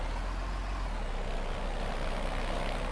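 A tractor drives steadily in the farming game Landwirtschafts-Simulator 15, set on a Bavarian map, giving a constant low engine drone with no breaks, alone and without talk.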